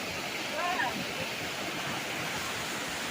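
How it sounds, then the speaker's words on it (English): Rushing stream near a natural bridge at Skjolden, Norway, a broad steady wash of water noise throughout, with a brief voice faintly heard early on. "Oh, the stream."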